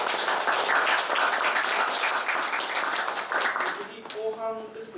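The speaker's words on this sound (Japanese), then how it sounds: "拍手をお願いいたします。" A room full of people at a Japanese research meeting applauds steadily for about four seconds after a presentation, then the clapping fades as a voice starts talking.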